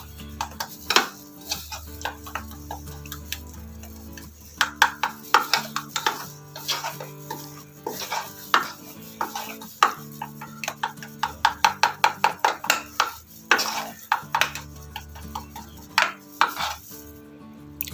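Ginger garlic paste, lemon juice and oil are mixed into a marinade with a utensil in a bowl, giving close, irregular clinks and scrapes in quick bursts and short runs.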